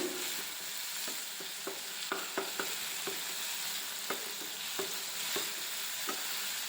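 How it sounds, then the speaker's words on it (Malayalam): Small tomato pieces are sautéed with masala for koorka curry in a pan, a soft, even sizzle beneath light, regular spatula taps and stirs, close by and without talk. "ഒരു ചെറിയ തക്കാളിയാണ് എടുത്തിരിക്കുന്നത് അതും കഷ്ണങ്ങളാക്കിയിട്ട് ചേർത്ത് ഒന്ന് വെന്ത് വരുന്നത് വരെയും വഴറ്റിയെടുക്കാം"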